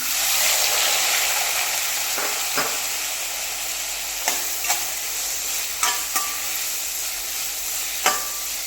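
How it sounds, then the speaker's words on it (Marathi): Onion fries in hot oil with toasted cumin for kaju masala, a loud continuous sizzle and hiss running throughout, with occasional spoon clinks and scrapes against the pan. "आणि इथे छानच आपल्याला कांदा परतवून घ्यायचा आहे"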